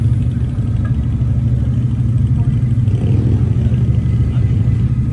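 A 5-litre car engine rumbles low and steady at idle, a deep continuous drone that swells slightly midway, with no talking over it.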